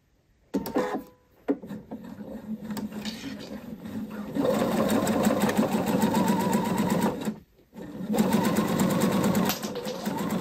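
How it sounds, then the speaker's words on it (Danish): A sewing machine runs a straight stitch joining stretch fabric right sides together with elastic thread, with a stitch length of 2.5 mm. It whirs steadily and close, in two long bursts with a short pause between them, and no one speaks. "jeg starter med at sy dem sammen ret mod ret med en helt almindelig ligeud søm"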